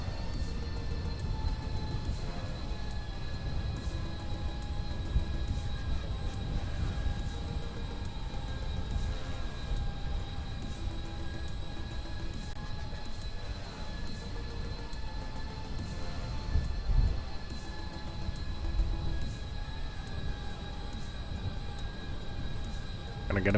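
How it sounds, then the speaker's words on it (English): An aircraft taxiing in Kerbal Space Program: a continuous loud, steady engine drone with a constant high whine layered over a rumbling low end, unchanging throughout with no talking. "let's get ourselves taxied away"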